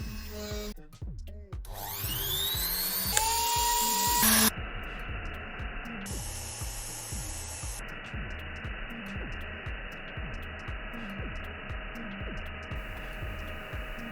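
A small drill works through a printed circuit board with a steady whining motor tone, a rising spin-up at the start, shifting pitch as the bit bites, and a rhythmic ticking pulse underneath throughout.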